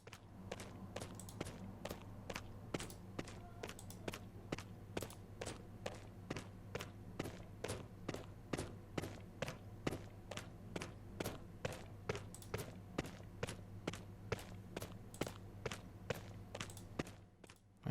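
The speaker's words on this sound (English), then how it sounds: "Always remember to remove the looping region on the footsteps here" Video-game footsteps with cave reverb, set up in FMOD and Unreal, walk at an even pace of about two steps a second. Each step is a soft thud that rings briefly in the cave over a steady low hum.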